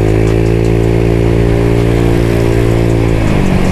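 Motorcycle fitted with a copy CMS exhaust made by DSM, revving loud and close in a deep sustained drone with a slight pitch change near the end.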